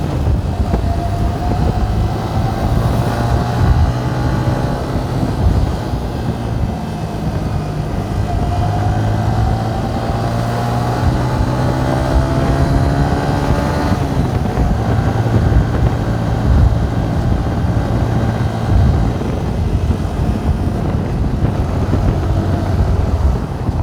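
A Yamaha New Vixion Lightning motorcycle revs hard while accelerating through city traffic in Balikpapan, its engine note rising in repeated climbing sweeps as it pulls through the gears, loud and continuous against road noise.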